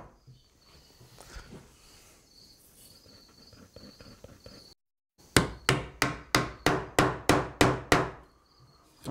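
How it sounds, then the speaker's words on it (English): A hammer knocks glued wooden cabinet parts into place, about ten sharp, evenly spaced close taps after a pause, with faint lighter tapping and a high insect-like whine earlier. "I just nudge them in with a hammer"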